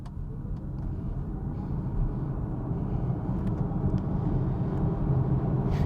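A 2024 Polestar 2 electric car pulls away from a brake-boost launch, a low road rumble and tire noise swelling steadily with a faint motor hum, no voices over it.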